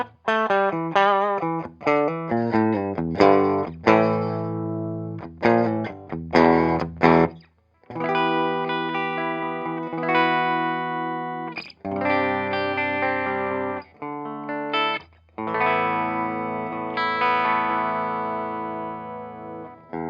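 Epiphone Zakk Wylde Les Paul Custom Bullseye electric guitar played through a Fender Hot Rod Deluxe amp with a distorted, effected tone. Choppy strummed chords and riffs give way to long ringing sustained chords, loud and close, with no talk.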